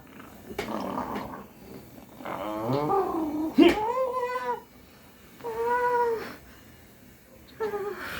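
A cat meows several times, drawn-out plaintive cries separated by short pauses, close and fairly loud.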